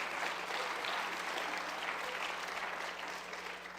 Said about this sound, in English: And you can clap for that too.